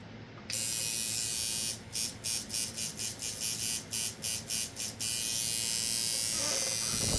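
A cheap $27 Wormhole tattoo kit machine buzzing steadily, then switching on and off in a quick series of short bursts before running continuously again, close and fairly loud with no talking.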